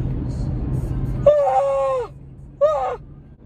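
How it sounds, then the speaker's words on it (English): A person lets out a big drawn-out yawn, a loud groaning vocal sweep lasting under a second, followed by a second shorter yawning groan, close and alone. "That one took two because it was gonna be a big yawn"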